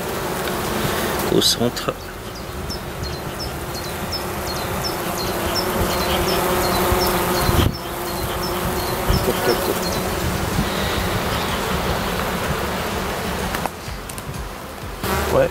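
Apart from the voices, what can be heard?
honey bee colony buzzing at an opened hive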